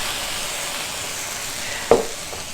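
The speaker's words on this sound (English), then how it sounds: "what I'm gonna add to this pan is some balsamic vinegar" Sausage sizzling steadily in a pan as balsamic vinegar goes in, a broadband frying hiss with one brief sharp splash of liquid near the end, no voices.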